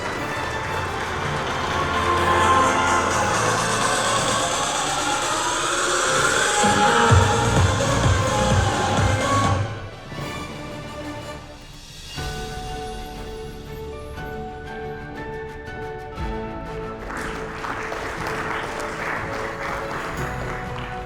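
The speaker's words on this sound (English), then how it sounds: "Please give the man a big warm round of applause." Sustained audience applause at a real estate company's award ceremony in a hotel, a broad steady wash of clapping that drops off midway and then resumes more softly with some crowd murmur.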